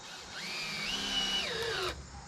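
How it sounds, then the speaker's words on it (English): Power drill driving screws down into a wooden stud, its motor whining steadily and rising in pitch mid-run before cutting off abruptly, close and alone. "I'm gonna go ahead and screw this down"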